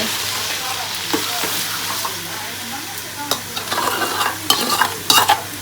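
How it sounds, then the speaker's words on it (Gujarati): Chopped onion sautés in a pan with ginger, garlic and green chilli paste, a constant close sizzle joined by scraping stirs that grow more frequent and louder in the second half. "પછી આપણે ડુંગળી નાખી દીધી છે અને એને સાતળી લેવાની છે"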